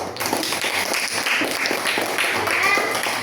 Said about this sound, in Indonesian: Tepuk tangan untuk kelompok Katolik.